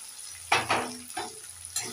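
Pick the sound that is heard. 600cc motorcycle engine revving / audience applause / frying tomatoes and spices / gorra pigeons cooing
frying tomatoes and spices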